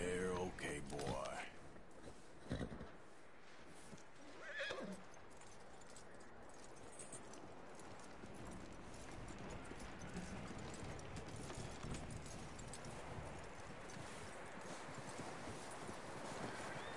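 Horse hooves clip-clop in Red Dead Redemption 2, with a few sharp, loud hoof strikes and creaking tack at first, then a softer, continuous rustling gait that carries on faintly to the end.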